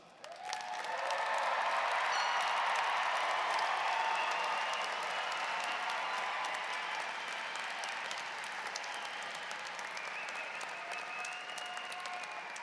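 Sustained applause from a large audience at a university commencement ceremony, swelling quickly to a dense, loud roar of clapping and then holding steady for many seconds with a slight easing.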